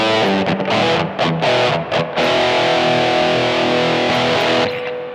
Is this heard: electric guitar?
yes